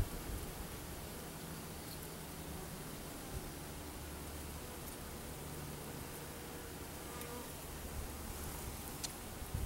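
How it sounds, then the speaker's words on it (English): Honey bees hovering over sealed brood in a hive in late winter or early spring, producing a soft, continuous buzzing hum under faint background noise, steady and unbroken throughout. "The bees are hovering over the brood that's sealed off."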